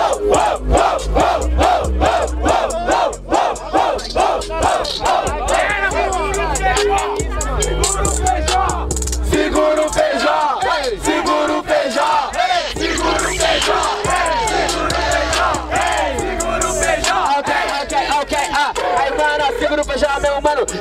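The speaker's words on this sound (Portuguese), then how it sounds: "Barulho pra Jaya Luke, hein" A rap battle crowd at a Brazilian freestyle event in Barueri roars continuously, cheering, yelling and whooping loudly in a dense sustained wall of voices while music plays underneath.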